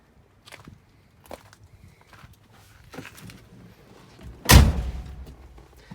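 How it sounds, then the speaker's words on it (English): A 1986 Jeep Grand Wagoneer door swings shut with one heavy, solid thud up close, preceded by a few faint clicks and knocks of handling. "Nice heavy thud when you close the door."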